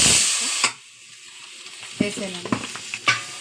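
Four cloves sizzle briefly in hot oil in a pan, a loud hiss at the start that drops away, followed by light scrapes and clicks while a voice speaks.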